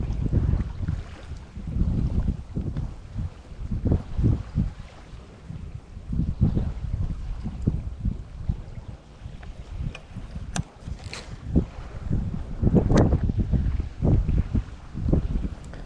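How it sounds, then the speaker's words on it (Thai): Strong wind gusting over open water during bass fishing, buffeting the microphone in loud, uneven surges that rise and fall without talk. "ลมก็ค่อนข้าง แรงอะ"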